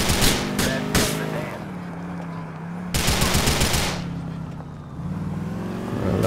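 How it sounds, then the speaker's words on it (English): Rapid bursts of automatic gunfire in GTA IV ring out in two loud clusters over a steady car engine hum, with a siren-like drone underneath during a police chase. "Jacob's shooting over them"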